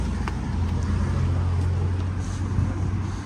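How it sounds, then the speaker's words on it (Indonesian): Cars speed past on a road in the lower town of Bergamo, Italy, giving a steady, close roar of traffic with a low engine drone running through the whole stretch. "Ini ngebut-ngebut banget mobil."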